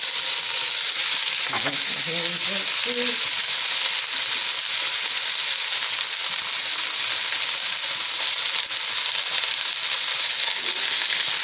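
Ground beef and ground sausage frying in olive oil in a pot give a loud, continuous sizzle, with a brief scrape or stir near the start and no pauses throughout.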